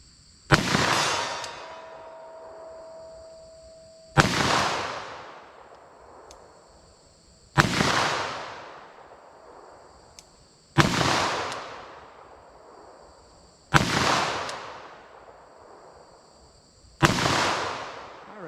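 Six loud 10mm revolver shots firing Underwood 180 gr XTP ammunition, each a sharp crack with a ringing decay, spaced about three to four seconds apart and heard outdoors with no talking.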